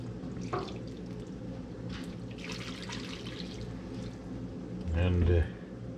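A mixture of oxalic acid and glycerin, a heavy batch of ten pounds of each, is poured into a pot to soak, giving a liquid splashing and trickling sound with a louder gush near the end and some talk around it.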